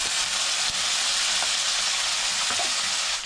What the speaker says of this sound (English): Sizzling right away.